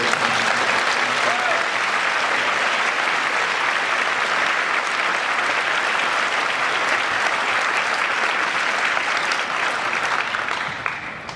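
Sustained audience applause at a keynote's opening remarks, a dense, steady wash of many hands clapping at full volume throughout, tapering slightly at the very end.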